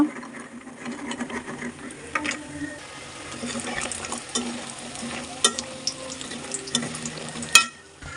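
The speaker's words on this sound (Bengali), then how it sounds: "মাছের তেলের ভিতরে কুমড়ো বড়ি দিয়ে দিব ভাজার জন্য" Pumpkin lentil dumplings (kumro bori) frying in fish oil in a pan, a steady close sizzle with occasional stirring scrapes and clinks, no voices.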